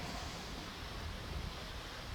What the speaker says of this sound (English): A lot of water coming down right there